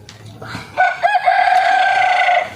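A rooster crows nearby, one long loud call that rises, wavers, and holds steady before fading, with faint background noise before it.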